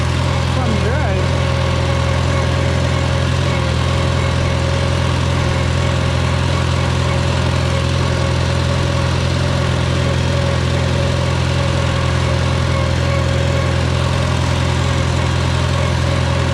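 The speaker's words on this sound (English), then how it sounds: "Tell you what, this tractor's fun to drive." A Farmall Super A tractor engine runs at a steady, even drone with a low rhythmic thrum, close and loud throughout, with someone talking faintly over it.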